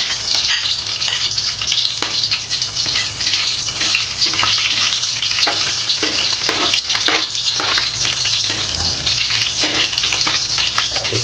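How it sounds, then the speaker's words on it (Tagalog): Garlic sizzling and crackling steadily in hot cooking oil for pancit bato, a loud continuous fry with occasional sharper pops and stirring scrapes, no voices. "ngayon po ay uunahin ko natin ilagay ang bawang"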